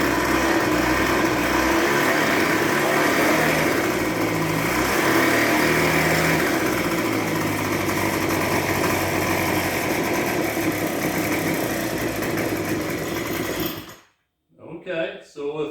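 A backpack leaf blower's small two-stroke engine runs at half choke, a loud, steady, buzzing drone with slight surging that cuts out abruptly near the end, followed by brief voice-like sounds.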